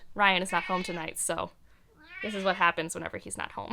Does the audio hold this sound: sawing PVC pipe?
no